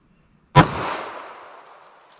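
A single loud, sharp gunshot from a 4-inch 9mm pistol firing a Critical Duty round outdoors, followed by a long, fading echo after a quiet lead-in.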